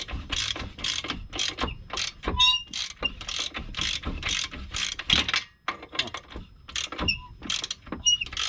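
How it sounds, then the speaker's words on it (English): A ratchet wrench clicks in quick repeated bursts while tightening camber bolts during airlift suspension installation on a 2019 Subaru WRX, close and crisp with short pauses between strokes. "Ratchet it up."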